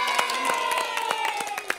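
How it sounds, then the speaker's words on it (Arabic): Children's audience applauding at a kids' show celebrating World Scout Day, a dense patter of small hands clapping steadily with a few sharper bursts, while a sustained musical tone or whistle runs underneath. "تصفيقة تصفيقة تصفيقة."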